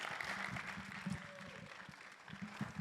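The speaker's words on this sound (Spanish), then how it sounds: "Give a big al applause Señor" Church congregation applauding during a Spanish-language sermon, a steady broadband clatter of many hands that fills the whole stretch, with voices speaking underneath.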